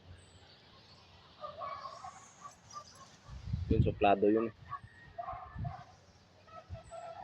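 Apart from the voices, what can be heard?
dogs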